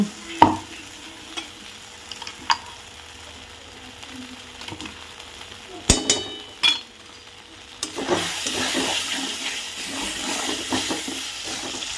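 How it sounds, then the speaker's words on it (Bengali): Taro paste is stirred and fried in oil in a home kitchen. The sizzle is soft at first, broken by scattered utensil clicks and scrapes, then grows into a louder, steady frying hiss for the last few seconds. No one talks. "এই দেখুন কচু বাটা করছি আর আমি একটু তেলে নেড়ে নিই"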